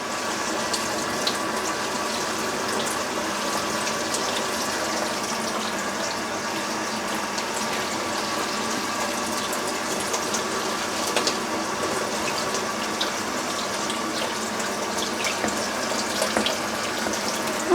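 Kitchen tap water runs continuously into a sink while potatoes are rinsed for homemade hashbrowns, a steady hissing splash with light clicks and clatter throughout.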